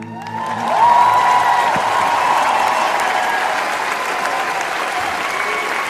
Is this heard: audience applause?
yes